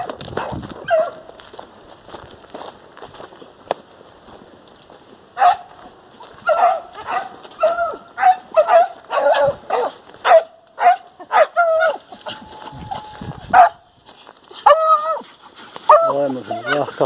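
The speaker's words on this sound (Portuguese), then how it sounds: "Cachorrada aqui chegando" A pack of hunting dogs arrives during an outdoor hunt, barking in rapid overlapping bursts and yips that build from sparse calls to a dense, loud chorus, with someone talking now and then.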